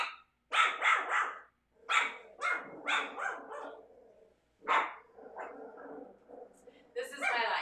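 Klee Kai puppies yap and bark in sharp, high-pitched bursts, clustering into excited volleys separated by brief quiet gaps, close by and loud.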